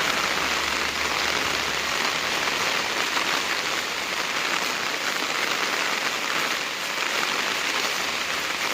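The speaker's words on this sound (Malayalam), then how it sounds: "മഴ പെയ്യുന്നുണ്ട്" Rain falls hard and steadily on a surface in rural Kerala, making a loud, unbroken wash of noise with no voices.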